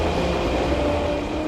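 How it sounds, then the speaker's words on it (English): A cartoon bullet train rumbles past in a continuous, loud rolling roar with a steady hum, lasting only a moment. "Bullet train's back online and ready to roll."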